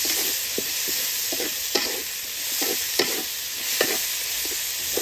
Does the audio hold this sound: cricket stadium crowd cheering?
no